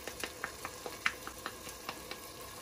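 Red chili goes into a frying pan while veg pulao cooks with turmeric and garam masala, giving a steady sizzle with regular scraping stir strokes about every quarter second, fairly close and without talk.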